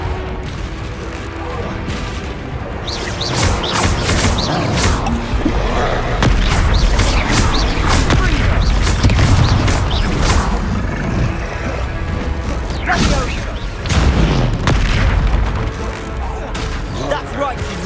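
Confringo fire spells bursting in the Hogwarts Legacy video game during combat, a dense barrage of loud booms and crashes piling up over game music and battle noise, with voices speaking throughout.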